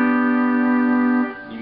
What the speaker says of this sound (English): you can hear the buzzing in the strings.